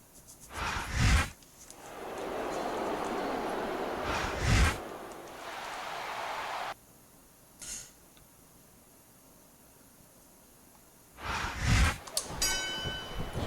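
Wrestling ring bell in the Smackdown vs RAW 2009 video game, several sharp metallic clangs ringing out over game background noise, with a sustained crowd-like wash between strikes.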